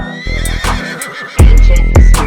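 A horse neighs loudly and close, with several shrill whinnies breaking into one another, the last bursts strongest.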